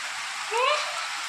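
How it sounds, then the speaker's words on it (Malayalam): Steady hiss of rain falling, continuous and fairly soft, with a brief higher whistle-like tone partway through. "അപ്പം നല്ല മഴയായിരുന്നു പെയ്യുന്നുണ്ട് കേട്ടോ"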